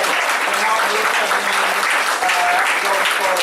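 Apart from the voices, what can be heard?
round of applause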